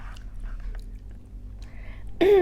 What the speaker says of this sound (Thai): ขอกัดแล้วกันนะ กลัวทะลักอีกคี้ยวไม่ได้แล้วเนี่ย มันใหญ่มาก